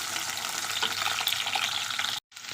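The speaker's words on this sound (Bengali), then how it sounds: "আলুটা ভাজা ভাজা হয়েছে" Potatoes and jackfruit seeds fry in oil, making a close, dense sizzle with light stirring scrapes that breaks off briefly near the end before resuming.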